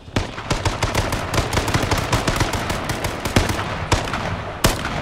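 Rapid gunfire in the battle royale video game Z1 Battle Royale, a dense string of sharp shots with several louder cracks standing out, continuous and fairly close, with no talk over it.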